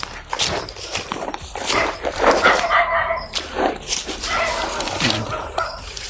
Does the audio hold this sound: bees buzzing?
no